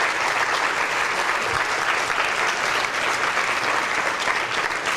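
A lecture audience claps steadily for a local New Orleans businesswoman, dense continuous applause filling the room at an even level from start to finish, with no voices rising above it.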